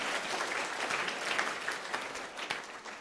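Dense, continuous applause fills a wedding hall as students at a live memory training session clap hard together, a thick wash of hands that swells slightly and then fades a little toward the end.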